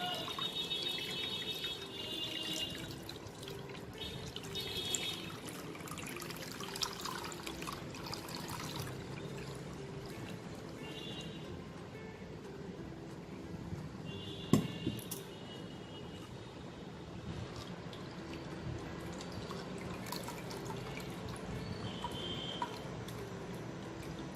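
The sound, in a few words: milk being strained through a sieve into a bowl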